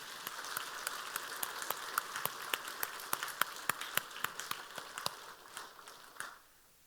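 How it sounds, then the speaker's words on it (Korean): A church congregation applauds its long-serving ensemble members, a steady wash of clapping with sharp individual claps standing out, holding moderately loud before cutting off abruptly near the end. "우리 앙상블 한번 박수 쳐주시기 바랍니다."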